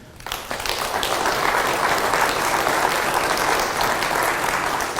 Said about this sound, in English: give a round of applause to Rabbi Paikus